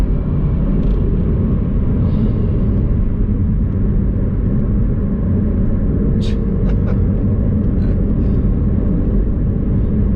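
A McLaren 720S engine under throttle produces a loud, steady, low rumble heard from inside the car, with a few faint higher chirps near the end and no talk.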